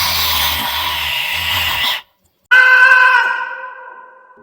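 A man lets out a loud, drawn-out scream inside an old haveli in a Hindi horror story, a sustained harsh cry after a brief silence that fades toward the end.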